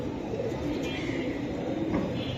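Silver Giribaz pigeons at a sale coo in a steady, rolling murmur, close and moderately loud, with little talk over it.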